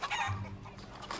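Chickens give a faint, brief bout of clucking, heard quietly for about a second.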